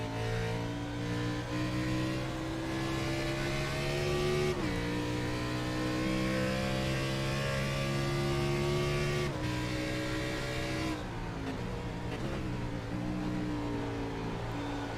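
Race cars in a video game at Watkins Glen, engines droning loudly and continuously with pitch shifts as they brake and downshift, gear changes cutting through the roar.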